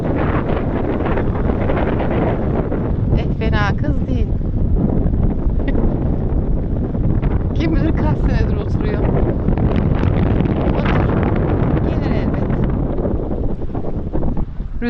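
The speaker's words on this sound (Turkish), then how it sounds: "rüzgarın sesinden duyuluyorumdur inşallah" Heavy wind off the sea buffets the microphone on Büyükada island in a constant roaring rumble, with a voice talking faintly underneath.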